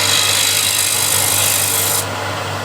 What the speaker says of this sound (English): Again, a light touch with standard scraper, just blending the two nicely.